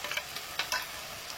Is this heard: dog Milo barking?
no